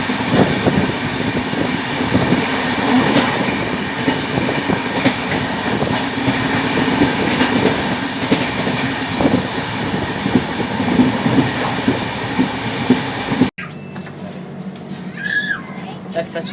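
The 18005 Samleswari Express rolls into Jharsuguda station with loud, close wheel clatter and rumble from a carriage, faint voices around, before the sound cuts to a quieter, calmer stretch.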